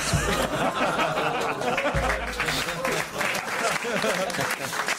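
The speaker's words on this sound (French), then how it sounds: "c'est que les gens applaudissent là-dessus." Audience applause with scattered laughter and chatter at a French comedy joke show, a dense steady patter of clapping filling the room throughout.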